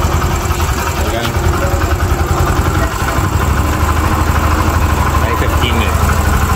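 An engine idles steadily at roughly 1500 to 2000 RPM, a loud continuous drone that holds evenly from start to finish, with some talk over it.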